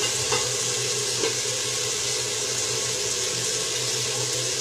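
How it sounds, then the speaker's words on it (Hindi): Onions, both white green-onion bases and ordinary onions, cooking in a pan for a sweet-and-sour vegetable pickle, giving a steady close sizzle with faint stirring scrapes throughout, no talking. "मैंने प्याज डाल दी इसमें, ये प्याज डल गई।"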